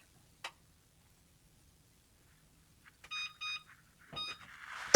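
A kitchen oven timer is set for baking Christmas cookies, a few quiet taps followed by short repeated electronic beeps in clusters over a near-silent room, with no talking.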